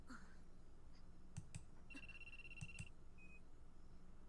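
In the video game Aoi Shiro, a telephone rings with faint, repeated electronic tones and short beeps in clustered bursts over a low hum.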